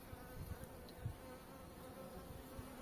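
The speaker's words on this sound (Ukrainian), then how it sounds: "бджоли використовують кожну хвилинку свого часу, щоб запастись кормом для майбутнього покоління" Honeybees buzzing around blooming apricot trees in a constant, low hum that stays even and close throughout, with no voices.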